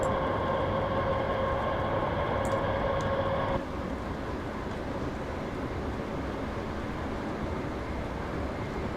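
Class 319 electric train running on a fast line in Train Sim 2018, a steady rumbling drive with a tonal motor whine that drops away after a few seconds, leaving an even track roar.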